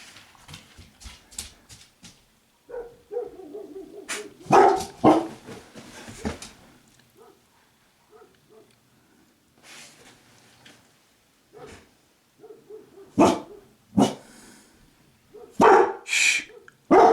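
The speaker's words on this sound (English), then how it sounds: "And there's my dog." A dog barks in sharp bursts outside in a yard as elk arrive to feed on alfalfa, the barks coming in clusters with quieter gaps and a few whimpers between them.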